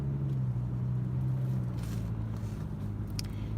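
A car driving on the road gives a faint, steady low rumble and road hum from inside the cabin, continuous throughout with no distinct events.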